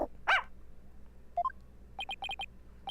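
A puppy in the Phoenix Wright: Ace Attorney – Spirit of Justice video game gives one short, sharp yip, followed by quiet electronic blips and chirps from the game.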